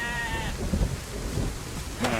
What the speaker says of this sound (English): Okay, so the sheep are coming.